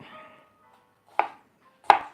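A knife chops through a bell pepper core on a cutting board, two sharp, distinct strikes about a second apart in an otherwise quiet kitchen.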